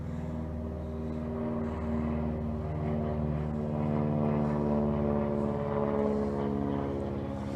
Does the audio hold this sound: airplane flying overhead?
yes